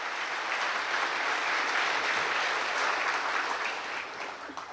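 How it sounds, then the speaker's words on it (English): A banquet hall crowd at a sports hall of fame dinner breaks into sustained applause, thick and steady clapping that holds strong throughout and eases only slightly at the end. "a round of applause"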